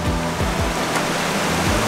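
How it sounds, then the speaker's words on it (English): Waterfalls at Derwent Water roar in a loud, continuous broadband rush of falling water, close and steady with no voices. "I've no idea if you can still hear me over the waterfalls here"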